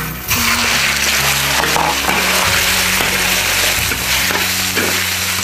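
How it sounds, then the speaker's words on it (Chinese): Pork belly is poured into a hot iron wok for rural braised noodles with green beans and bursts into a loud, close, continuous frying sizzle with occasional stirring clatter, with no voices. "多倒些肉，咱先把肉倒后头"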